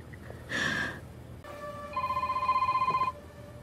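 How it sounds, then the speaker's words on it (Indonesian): A mobile phone rings with a bright electronic ringtone: a short buzzy burst first, then a sustained warbling multi-tone ring lasting over a second, fairly clear against quiet background noise. "Tiba-tiba ponsel Everett berdering."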